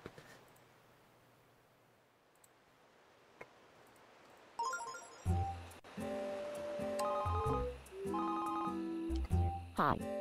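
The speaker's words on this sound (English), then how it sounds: "Hold up, I got a phone call." A phone ringtone plays in the video game Tomodachi Life, a bright repeating electronic melody that starts after a quiet stretch and continues steadily and loudly.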